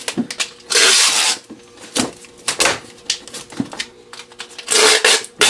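Packing tape is pulled off the roll and pressed onto a cardboard reptile shipping box, with several loud ripping screeches between tapping and rubbing noises, close and without speech.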